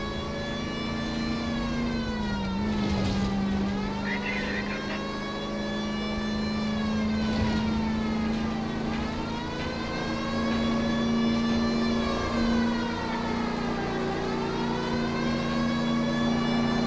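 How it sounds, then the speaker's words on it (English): A wailing police car siren rises and falls continuously, reverberating as it echoes inside a tunnel in L.A. Noire, with a steady engine drone beneath the sweeping tone, loud and close throughout. "Kind of cool that the siren sound changed when we entered the tunnel."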